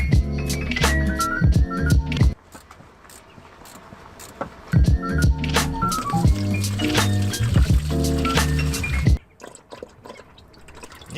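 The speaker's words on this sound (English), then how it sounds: "Drain the coolant." Coolant drips and trickles as it drains out of a Mercedes-Benz T1 van under street repair in winter, a run of close, irregular splashing drops that stops abruptly near the end.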